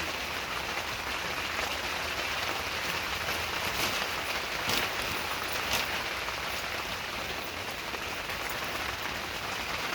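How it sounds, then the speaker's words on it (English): Steady rain pattering on a surface outside, a continuous hiss with scattered drops, no voices. "And yes, it's raining out."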